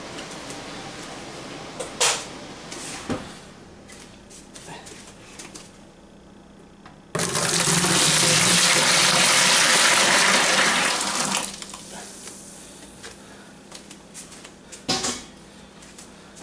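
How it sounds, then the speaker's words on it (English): Boiling sugar water poured from a large pot into a beer fermenter for an orange shandy, a loud rushing pour lasting about four seconds between quieter kitchen clatter and small knocks. "I'm going to pour the boiling sugar water into it."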